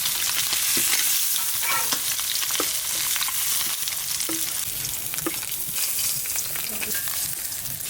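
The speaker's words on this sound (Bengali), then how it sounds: "মাছটা বেশি ভাজবো না, হালকা করে একটু ভেজে নিয়েছি" Fresh fish lightly frying in a pan of oil, a constant close crackling sizzle with occasional small pops and soft stirring touches throughout.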